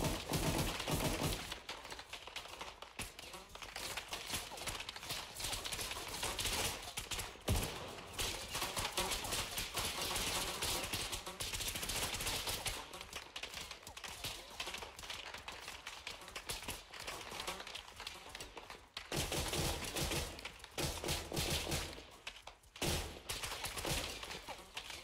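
Gunfire, shots coming from the south: sustained volleys of cracking shots and bursts like machine-gun fire over roughly 25 seconds, loud and dense with brief lulls, no talk.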